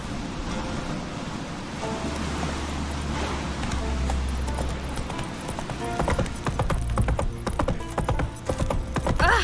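Hooves pound steadily as the horse Roach gallops in The Witcher video game, a fast rhythmic clatter under wind-like rushing noise, growing busier and louder toward the end.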